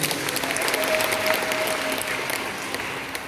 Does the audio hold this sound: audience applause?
yes